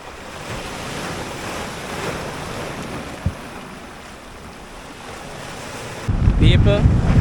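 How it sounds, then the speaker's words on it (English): Strong wind gusts and rough sea waves surge around a small fishing boat out snapper fishing, with steady buffeting wind noise on the microphone and a heavy blast near the end. "the sea I get rougher, the breeze start blow heavier. It's very windy at the moment right now."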